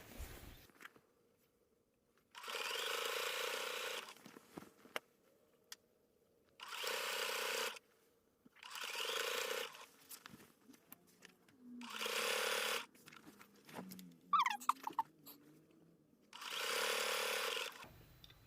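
A sewing machine stitches down quilt binding in five separate bursts of steady, fast whirring. Each burst lasts a second or two, with quiet pauses and faint handling noises between them.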